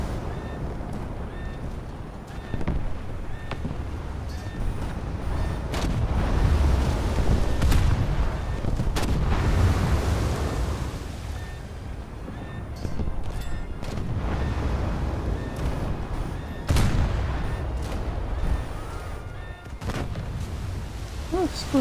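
A warship blows up in a naval combat video game when its ammunition store catches fire, a series of deep booming blasts and rumbling bursts with sharp cracks recurring every few seconds, loud and heavy.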